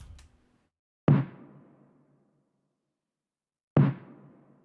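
Two separate snare drum hits, each drenched in reverb that rings out and decays slowly, spaced a few seconds apart with near silence between them.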